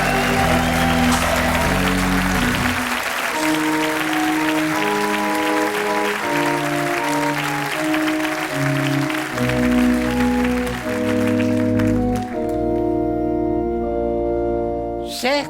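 Studio audience applause on a French comedy show rises under a bright theme tune with stacked sustained notes, the clapping dense and steady beneath the music for its whole length.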